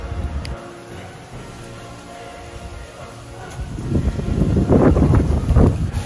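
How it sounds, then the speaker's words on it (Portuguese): Strong wind buffets an outdoor microphone in heavy, uneven gusts that build and get rougher toward the end, with no one speaking. "tá ventando muito"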